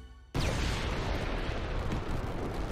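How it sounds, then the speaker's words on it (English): After a brief quiet moment, a flashbang explosion in an anime bursts suddenly and loudly, leaving a dense, roaring, hissing wash of noise that holds steady to the end. "It's like fireworks flashbang."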